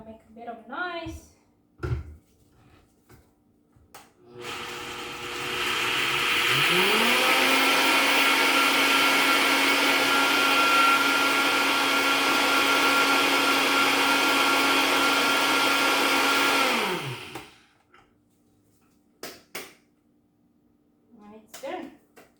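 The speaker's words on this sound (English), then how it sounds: "So I put a cup of whole steel cut oats here. I'm gonna blend it a bit." A blender grinding a cup of whole steel cut oats roars loudly for about twelve seconds, its motor pitch rising as it spins up and dropping as it winds down, with brief handling sounds before and after.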